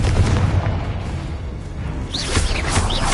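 Confringo explosion spell cast in Hogwarts Legacy, booming blasts and bursts amid busy combat effects, with sharp whooshing sweeps toward the end.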